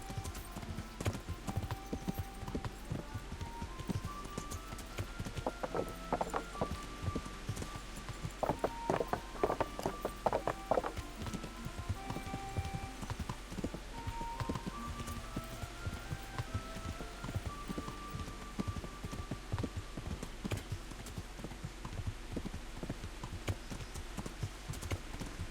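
Horse hooves clip-clop steadily in the medieval role-playing game Kingdom Come: Deliverance, a continuous rhythmic trot running for the whole stretch alongside game music, with no talking.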